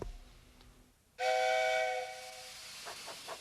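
A loud steam locomotive whistle blasts for about a second, steady and shrill with a hissing edge, then fades into a low rumble with faint clanks.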